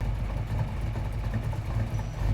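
A 1992 Ford Mustang Saleen foxbody idling in the racing game Need for Speed Heat, a steady low rumbling engine burble at a moderate, even level.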